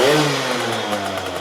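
A rare small scooter engine with its airbox removed revs and then falls back, with a short, fairly loud engine pitch sweeping downward up close.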